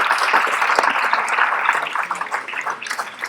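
Audience applause at the close of a two-day gathering, a steady dense wash of clapping that stays loud throughout and thins slightly toward the end.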